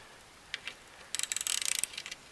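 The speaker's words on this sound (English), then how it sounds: "So this is how I torque down pan bolts. Basically, I have a ratchet about this size" A ratchet torquing down the transmission pan bolts on a 1982 Corvette 700R4 transmission, heard as a close, rapid run of dry clicking that speeds up into a dense burst and then trails off. A couple of soft taps come first, and no one speaks.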